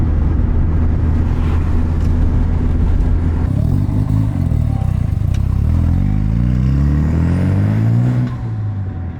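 A boosted car's engine pulls hard through several gears, each rise in pitch cut by a shift and then climbing again. It is loud and close, with a raspy exhaust note that eases off near the end.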